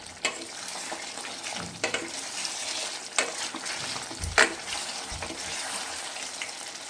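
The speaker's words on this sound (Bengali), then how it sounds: "আবারও আমি খুব ভালো করে নেড়ে দেব" Mutton is stirred in a frying pan as it browns in oil, with a steady sizzle and several distinct scrapes and clacks of the spoon against the pan. The sound is close, with no talk.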